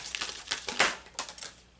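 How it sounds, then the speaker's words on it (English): Tarot cards being shuffled by hand, a quick burst of crisp riffling and flicking close up, alone without talk. "I'm going to do that again because I didn't really get a chance to really get a good shuffle"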